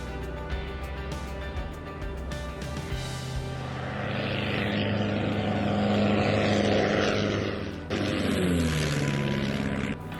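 A Van's RV-6 light airplane's propeller engine drones steadily and close, with a low harmonic hum that swells louder midway and shifts in pitch near the end as it maneuvers around a grass strip.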